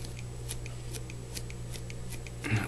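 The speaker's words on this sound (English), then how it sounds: "Just cut a little bit of that collar out of there." Scissors trimming the collar of a bass streamer fly at the tying bench, a faint, evenly spaced series of small snipping clicks over a low steady hum, ending in a slightly louder rustle.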